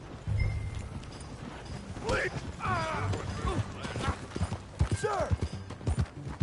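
Horse hooves clip-clopping in Red Dead Redemption, a steady trotting rhythm under voices trading short lines, with one sharp shout.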